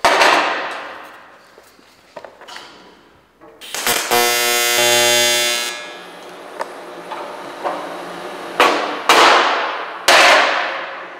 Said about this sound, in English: put your weld in, it's called a hot tack. When it's still hot and molten, but solidified, you give it a little hit with a hammer